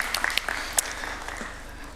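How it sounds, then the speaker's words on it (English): Scattered audience claps at a finance conference session, a handful of sharp separate hand claps early on that quickly thin out and fade into a quiet room. "give yourself a round of applause for holding on and remaining in the room"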